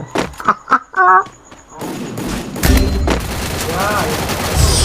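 Free Fire video game gunfire comes in bursts of sharp shots and rapid automatic fire with thuds, loud and close, overlapping game sounds and excited talk from players.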